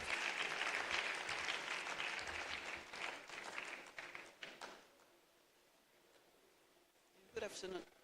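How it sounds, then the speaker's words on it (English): Audience applause at an international CSR conference, steady and fairly loud clapping for the first few seconds, then thinning out and fading, with a brief burst of clapping near the end. "Please give a warm round of applause to Dr. Ayo Oyalawo."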